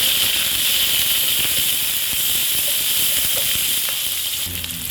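Hot oil in a pan for pancit gives a steady, close, crackling sizzle and hiss that runs continuously, with a few small pops and a faint clink toward the end.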